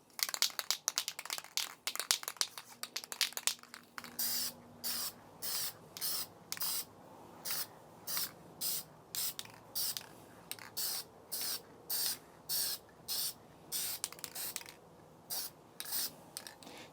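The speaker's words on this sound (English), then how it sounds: "one thing you'll see me doing as I'm spraying here is kind of getting around" Aerosol spray paint hissing onto a rifle in a series of short, evenly spaced bursts, close and clear, with a longer continuous hiss at the start.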